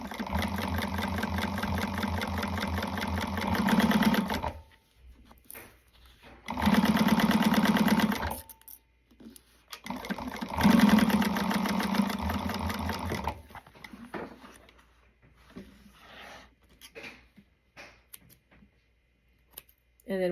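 Sewing machine back stitching a seam on an Alice wristlet, three loud bursts of steady motor hum a few seconds each, separated by pauses, the last trailing into quieter handling noises.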